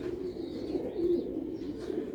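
Old-breed Sialkoti pigeons coo softly nearby, low throaty rolling calls repeating over a couple of seconds against a quiet background.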